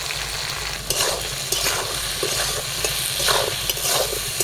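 Potatoes frying in oil in a pan with turmeric and salt, a steady close sizzle broken by repeated scraping stirs of a spatula at irregular intervals, with no talking.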